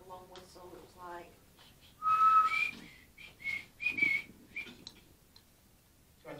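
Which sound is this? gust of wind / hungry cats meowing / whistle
whistle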